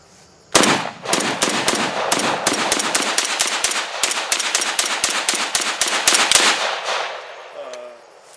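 A Chinese SKS bullpup rifle fires about two dozen sharp, loud shots in a rapid irregular string, close by and echoing, followed by a brief quiet tail.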